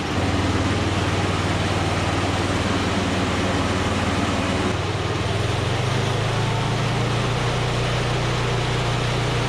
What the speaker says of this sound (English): I felt like it revved up too far when I pushed the throttle up